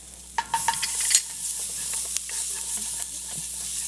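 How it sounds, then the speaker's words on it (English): Turmeric, chili and ginger sizzle in a hot pan while being stirred quickly, a steady frying hiss broken by close scraping clicks and taps of the spoon. "we want to stir this quickly because spices will burn"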